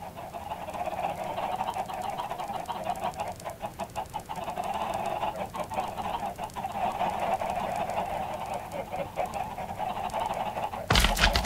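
Loud, continuous honking and clucking of fowl, like chickens or geese close by, with repeated harsh calls throughout and a burst of broadband noise near the end; no talking.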